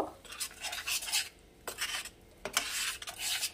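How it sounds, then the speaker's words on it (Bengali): A spoon or spatula scrapes and stirs spice paste with salt and sugar in a frying pan, in short, rasping strokes with brief pauses, close and alone. "মশলাটা একটু কষিয়ে নেব"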